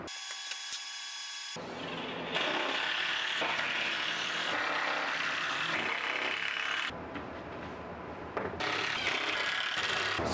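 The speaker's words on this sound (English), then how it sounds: "Then I screwed on the other apron just like the first." A plywood workbench apron is screwed on with a drill driver. Loud whirring bursts, pauses between screws and rough woody grinding run close by, with no talking.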